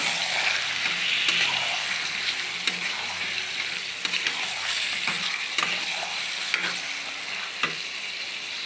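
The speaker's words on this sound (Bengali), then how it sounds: "এবার মাংসটা আমি তেলে কিছুক্ষণ ভেজে নেব" Chicken pieces frying in hot oil in a pan, a continuous crackling sizzle broken by repeated scraping clicks of stirring, close and moderately loud.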